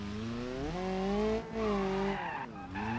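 Car tyres squeal continuously while drifting in the BeamNG driving game on low-traction stretched tyres, a sustained pitch-shifting screech over engine drone with two brief dips, no talking.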